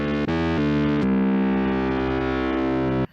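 A distorted amp-style guitar tone built from scratch on a modular synth in Caustic 3 sustains as one thick, buzzy held note after a couple of quick changes, heard alone with no talking.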